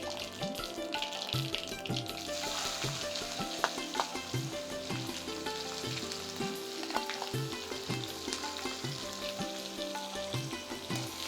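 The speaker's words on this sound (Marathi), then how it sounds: "कांदा गरम करायचा आहे" Chopped onion sizzles steadily in hot oil with cumin seeds in a pan, a constant close frying hiss with occasional soft clicks of stirring, no voices.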